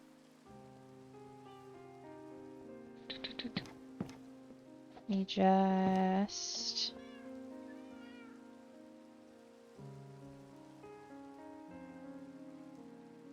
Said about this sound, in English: I probably should get rid of the rain.